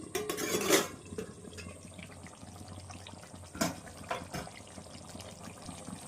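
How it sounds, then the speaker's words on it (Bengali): A metal lid is lifted off a pot of cooking potol chingri (pointed gourd with shrimp), giving a short clattering burst of metal near the start, followed by faint kitchen clinks and low background hum. "এবার আমি ঢাকনাটা তুলে নিচ্ছি।"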